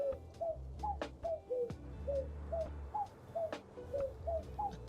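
A video-game seagull call from the cozy game Tiny Bookshop repeats in regular short, cooing tones over a steady low musical backdrop, clear and close, with no talk.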